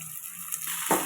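Tomatoes, chilies and garlic sizzle in a hot pan with a steady crackling hiss, and a short scrape of stirring comes near the end.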